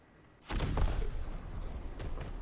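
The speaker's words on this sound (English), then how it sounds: "is this 50 cal that has a really slow rate of fire." A .50 cal secondary gun on a British tank in War Thunder fires with a sharp, loud report followed by a rumbling tail, with another quieter shot about a second and a half later.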